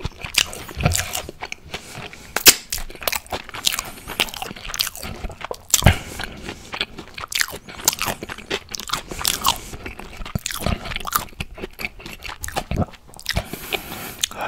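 Salmon and shrimp sushi chewed close to the mic, with wet crunchy bites and squishy mastication repeating unevenly and loudly, without talk.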